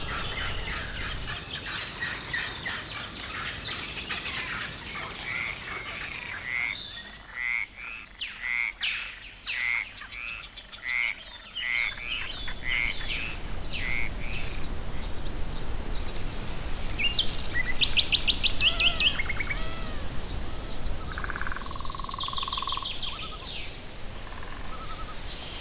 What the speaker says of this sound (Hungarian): Május közepén krákogástól, brekegéstől, fütyüléstől hangos a tópart.